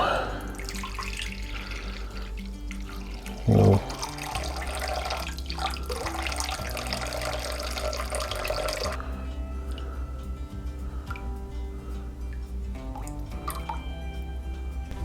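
Water runs and drips into a measuring vessel for olive bread dough, a steady close trickle with a brief louder splash, under faint kitchen background and a short spoken word.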